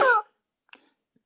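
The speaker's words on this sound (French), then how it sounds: "c'est mon chien qui est en train de s'étrangler." A dog chokes with a single short, harsh hacking cough at close range, followed by near silence and a couple of faint small sounds.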